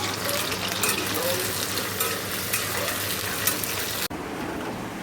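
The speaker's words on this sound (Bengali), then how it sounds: "পটল চিংড়ির জন্য এখন আলু পটল ভেজে নেব।" Potato and pointed gourd frying in oil, a continuous close crackling sizzle with occasional stirring scrapes, running steadily with a brief break partway through.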